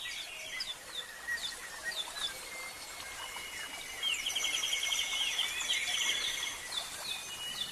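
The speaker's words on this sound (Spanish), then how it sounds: "arropado por el sonido del canto de los pájaros" Several birds chirp and trill in varied short calls inside an ornamental palace grotto in Austria, growing busier and denser in the second half, with a soft steady background hiss.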